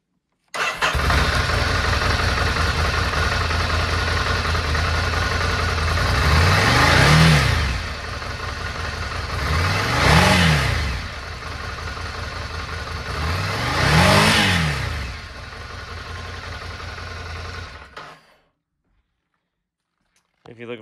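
A 2021 Ducati Scrambler Icon motorcycle engine idles loudly and steadily up close, then gets three distinct throttle blips that rise and fall at regular intervals before the engine cuts off to silence.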